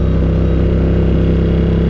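A Ducati motorcycle engine on cruise control hums at a steady, even pitch as it cruises along, loud and close with no change in speed.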